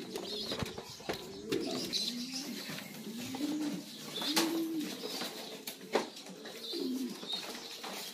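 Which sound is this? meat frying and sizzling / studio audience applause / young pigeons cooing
young pigeons cooing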